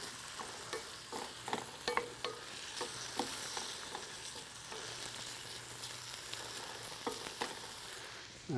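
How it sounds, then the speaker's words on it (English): Vegetables sizzle in a pan on a Komodo Kamado cooker while being stirred, a constant soft frying hiss punctuated by scattered utensil taps and scrapes, close up and steady with no voices. "We're gonna saute these up a little bit."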